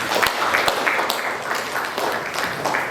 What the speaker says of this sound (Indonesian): Kita berikan aplaus untuk Sita